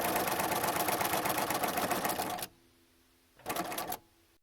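A sewing machine stitches t-shirt quilt blocks together, running as a rapid, steady mechanical whir for a couple of seconds, then pausing and giving a second short burst, close up and with no talk.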